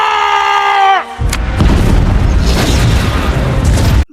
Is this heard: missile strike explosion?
yes